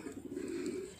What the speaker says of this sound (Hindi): ये देखें आप सब कबूतर बेहतरीन कबूतर हैं